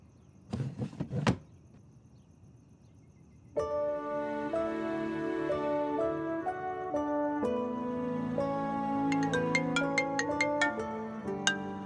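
A phone rings late at night with a melodic ringtone repeating steadily for several seconds, preceded by a few soft knocks or clicks indoors.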